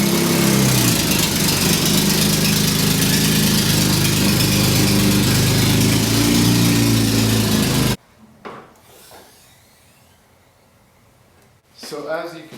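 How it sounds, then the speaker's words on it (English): A BMW E36 with a poorly built custom exhaust runs with a loud, steady, raspy rumble for about eight seconds, then cuts off, leaving faint knocks and rustles. "the last owner did a crappy custom exhaust, and it sounds like crap"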